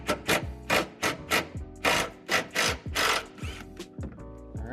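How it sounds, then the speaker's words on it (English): A drill works on the muffler bolts under a Mustang GT/CS, giving short repeated bursts of whirring with brief pauses between them, close and moderately loud, with no talking. "We're gonna use a drill again, make it easier."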